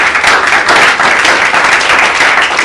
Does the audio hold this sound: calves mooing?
no